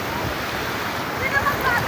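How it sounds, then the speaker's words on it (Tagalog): Strong sea waves wash onto a beach called Baluti, a broad, continuous roar of surf close by with a voice faintly underneath. "ang lakas ng alon"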